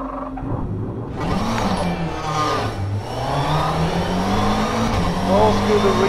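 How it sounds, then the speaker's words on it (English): A McLaren 720S GT3 race car at Sebring in rFactor 2, with the engine winding down after ignition off while a turbo whine and hum lingers, steady and close, under someone talking. "What happens if I turn off the ignition? I still think you hear the turbo"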